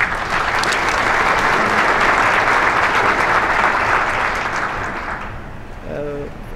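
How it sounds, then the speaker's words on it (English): A broadband summit audience gives a round of applause, dense sustained clapping for about five seconds that tapers away, followed by a short voice right after. "I would appreciate it if you would give her a round of applause as well"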